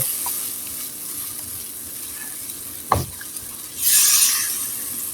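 A spice masala with blended cashew and almond sizzles while frying for an egg bhuna. The steady sizzle is close, with a sharp scrape of stirring midway and a louder hissing swell near the end.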